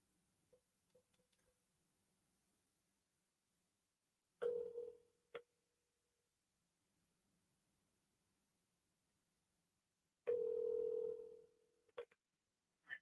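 Ringback tone of an outgoing phone call: two ring bursts about six seconds apart, each lasting roughly a second, with near silence between and no talk.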